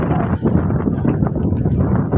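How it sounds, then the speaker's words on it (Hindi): Cold wind gusts buffet the microphone beside the flooded Chenab River with a heavy, steady low rumble, close and loud throughout. "ठंडी हवा चल रही है माशाल्लाह"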